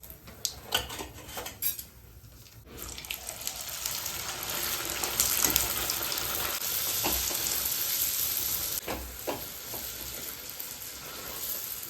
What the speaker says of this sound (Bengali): মা এতক্ষণে এখন ডালপুরিগুলো ভাজছে